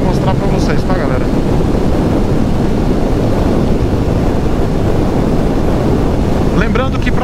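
Loud, constant roar of a Honda CB300F motorcycle at 120 km/h and 6,500 rpm on a highway, with heavy wind buffeting the microphone throughout and a brief voice near the end.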